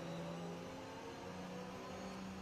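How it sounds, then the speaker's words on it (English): A Ferrari F40 in a racing video game nears with a steady engine drone and whir, layered over constant mid-level mechanical hum with no clear rise or pass-by. "I can hear the F40 coming up"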